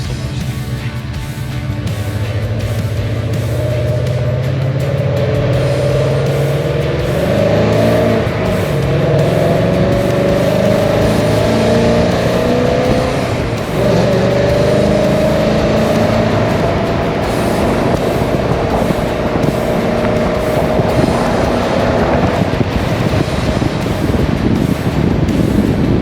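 Hot rod on the Hot Rod Power Tour taking a lap around Bristol, a loud continuous engine drone with rising and falling tones as it accelerates, heavy wind buffeting throughout.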